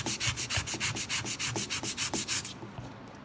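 Sandpaper rubbed back and forth over a rusty, pitted steel hatchet blade, about fifteen quick, even strokes, close and clear, then a faint scrape as the motion stops.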